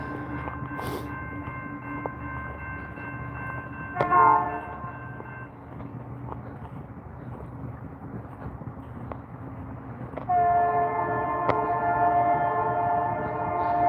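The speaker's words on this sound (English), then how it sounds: "So there goes the train past." A train passes through the small prairie town of Didsbury, Alberta, its steady low rumble running throughout, broken by sustained horn blasts near the start and again toward the end, heard from nearby outdoors.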